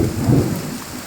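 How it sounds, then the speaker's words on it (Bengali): Heavy rain falls in the Behala area of Kolkata, a loud close hiss of rain with a low rumble mixed in, with no voices. "কলকাতা শহরে বেহালা অঞ্চলে খুব পরিমাণেই বৃষ্টি হচ্ছে।"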